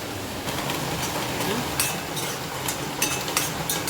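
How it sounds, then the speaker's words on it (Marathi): Steady sizzle of onions frying in a pan, with occasional light scrapes and clinks of a spatula stirring against the metal. "कांदा आपला छान भाजत आला आहे"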